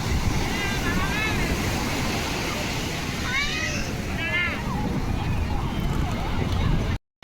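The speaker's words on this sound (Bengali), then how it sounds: "ঢেউটা খুব বড় বড় সাংঘাতিক পরিমাণে ঢেউ দিচ্ছে দেখো" Big sea waves crash on Puri beach in a continuous loud roar of surf, with wind buffeting the microphone and a few faint whistling calls rising over the noise.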